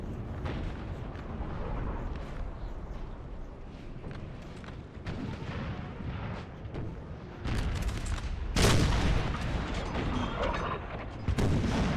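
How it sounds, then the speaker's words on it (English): Artillery bombardment and cannon dueling in the video game Napoleon Total War, a 4v4 battle: a dense, continuous rumble of distant booms and gunfire, with heavier blasts surging louder near the end. "The phase of artillery bombardment and dueling."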